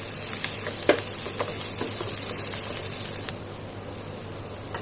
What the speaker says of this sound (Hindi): देखिए प्याज हमारा हल्का ब्राउन हो गया है और मैंने इसे तेज आंच पे करीब 4 मिनट फ्राई कर लिया है